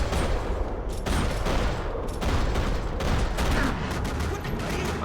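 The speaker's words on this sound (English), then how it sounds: "Another parking lot rattling with gunfire." Video game gunfire from Max Payne 3 in a parking lot: dense, continuous volleys of overlapping shots, loud and nearly unbroken, with brief dips in the barrage.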